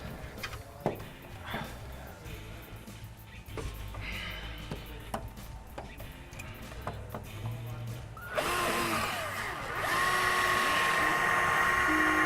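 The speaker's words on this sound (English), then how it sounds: "Let me know when you want this drill. There's a 1/8 bit in it." A power drill with a 1/8 bit whirs in a home garage, a high steady whine rising loud near the end over earlier clinks and rattles of tools.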